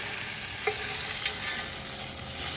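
A sausage laid on a hot cooking surface sizzles with a steady, even hiss, broken by a couple of faint clicks, and no voice is heard over it.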